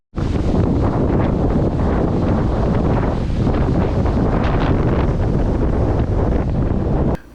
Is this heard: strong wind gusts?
yes